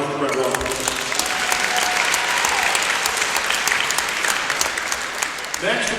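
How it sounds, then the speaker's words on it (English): Sustained applause from a crowd in a gym for a wrestler at a high school senior night, steady and dense, with a few voices mixed in before it thins at the end. "Everybody give a round of applause for Brad Waters."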